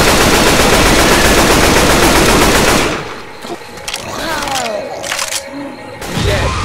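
Rapid automatic gunfire from the Left 4 Dead 2 video game roars loud and continuous for about three seconds, then stops. Quieter game sounds and a voice follow.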